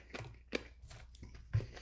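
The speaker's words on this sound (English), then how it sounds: "No, I think I'm crunching on one right now." Someone chews fried chicken from Mary Brown's, crunching on bone or cartilage, with a few sharp, close, crisp bites and wet chewing between them, without talk.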